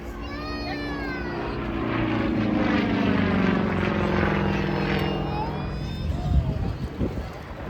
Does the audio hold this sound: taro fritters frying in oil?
no